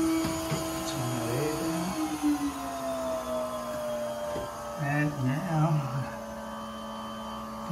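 A steady vacuum motor, used to collect bees from a wall, whines and hums throughout, with some clunks and shuffling handling noises and a few faint voice-like sounds mixed in.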